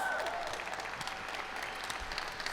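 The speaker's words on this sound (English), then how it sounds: "Please give a round of applause." Steady applause from an audience at a city State of the City event in Dania Beach, a dense even patter of many hands clapping that fills the room for the whole stretch without voices.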